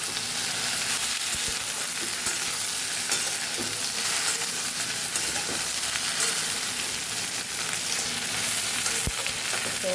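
Okra fries in a pan with a loud, continuous sizzle and crackle that stays steady throughout, with faint stirring bumps and no talking.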